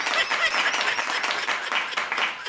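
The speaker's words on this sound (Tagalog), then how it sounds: "Palakpak." Applause from an audience at a Philippine Senate hearing-style gathering, a dense, steady burst of many hands clapping for a couple of seconds with a faint voice underneath.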